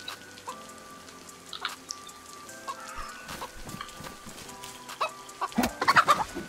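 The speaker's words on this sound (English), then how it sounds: "I heard a chicken." A hen clucks in the survival game DayZ, several short clucks scattered over a bed of ambient rain-like patter, growing louder and busier toward the end with no talking.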